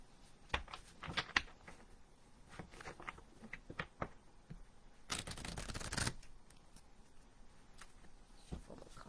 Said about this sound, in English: Shuffle the cards up nicely.